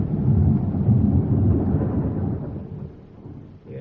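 Rumbling thunder rolls under steady rain in a radio drama storm scene, loud and deep at first, then easing off, with no voices.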